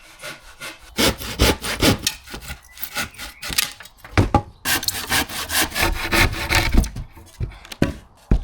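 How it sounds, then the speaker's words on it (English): A handsaw rasps back and forth through a garden paving flag, finishing a cut started by a circular saw; steady, close strokes with short pauses, loud and alone. "then I would get the handsaw and finish it off"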